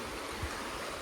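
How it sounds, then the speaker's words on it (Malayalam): A stream flows on a cold morning in Kanthalloor, a faint, steady, even rush of moving water with no other distinct sounds. "പക്ഷെ ആ ഒഴുകുന്ന വെള്ളത്തിൻ്റെ ശബ്ദം ഭയങ്കരമായിട്ടുണ്ട്."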